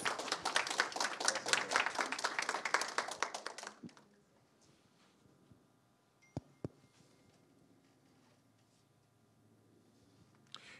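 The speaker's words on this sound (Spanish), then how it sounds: "Entonces, démosle un aplauso muy fuerte a Alejandro y muchas gracias." Audience applause after a talk by a filmmaker at an academic lecture, a burst of dense clapping for about four seconds that dies away abruptly, leaving a quiet room with a few faint knocks and shuffles.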